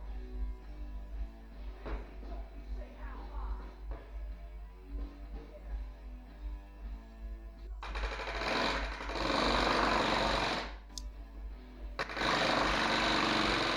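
A rivet gun rattles in rapid bursts while riveting the fuselage of a Van's RV-7 kit aircraft, starting as short spaced stutters, then becoming long loud continuous hammering runs close by.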